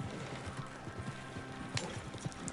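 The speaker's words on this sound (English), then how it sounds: "Oh shit, I am so bad at driving a horse while shooting" A horse gallops in the Red Dead Redemption 2 video game, with steady rhythmic hoof clip-clops over a dense, noisy game soundscape, with a couple of sharp gunshot-like cracks.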